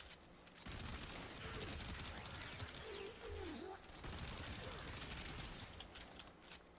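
Hystrix Prime fires continuously in Warframe against Corrupted Heavy Gunners, a dense steady barrage of gunfire and impact noise at moderate level with game effects layered underneath.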